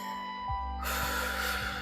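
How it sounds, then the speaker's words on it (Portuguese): A single deep breath, drawn in and then let out, sounds close and breathy over a steady low hum and a faint tone, with a rushing exhale filling the second half. "Toma uma respiração profunda."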